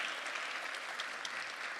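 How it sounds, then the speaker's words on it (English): Audience applause fills the room after a school anti-bullying play, a steady dense wash of clapping from a crowd with no talk over it. "Give yourselves a resounding round of applause for making the effort to be here today."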